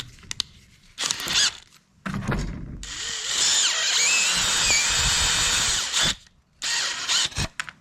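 A power drill enlarging a hole in an Echo Speed Feed 500 trimmer head whirs in several bursts, with one long sustained run in the middle and shorter spurts before and after, close and loud.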